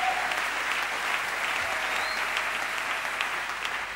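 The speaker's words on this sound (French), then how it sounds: "applaudis bien fort le roi des rois" A church congregation claps continuously during a sermon in a broad, even wash of applause that holds steady throughout without pauses.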